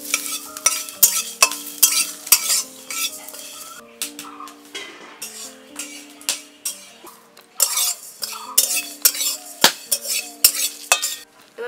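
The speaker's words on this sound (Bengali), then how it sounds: "এবার এটাকে শুকনো কড়ায় নাড়াচাড়া করে ভেজে নেব।" Dry red chillies, panch phoron and fennel seeds are stirred in a dry kadai, with rhythmic scraping strokes of a spatula against the metal and occasional clinks over a faint dry sizzle, close and alone.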